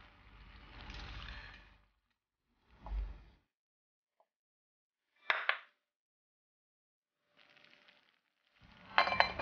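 A seasoning sauce is poured over prawns layered in a clay casserole with green and red peppers. Quiet, separate bursts of sizzling and splashing come with faint clinks and near silence between them.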